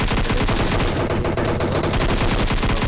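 Gunfire in the Free Fire mobile battle game: a loud, dense, unbroken barrage of rapid shots and automatic bursts filling the whole stretch, with no speech over it.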